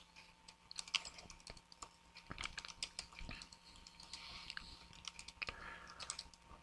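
Fingers typing on a computer keyboard, quiet irregular clicks and taps in quick bursts over a faint background hum, close and soft with no speech.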